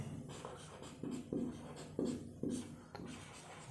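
Pen strokes scratch across paper in short repeated bursts while a math expression is written out for a class 12 integrals lesson, steady and close with no talk.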